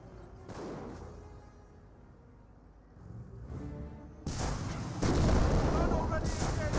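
Artillery rounds slam into a British 17-pounder anti-tank gun in Company of Heroes, a run of booming impacts and rumbling blasts that grows louder and denser toward the end, with a commentator's voice underneath.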